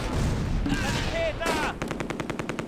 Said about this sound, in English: They're shooting my scouts.